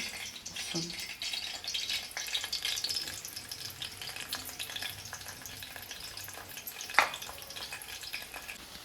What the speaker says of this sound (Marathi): आणि इकडं आपला मच्छी फ्राय शिजतंय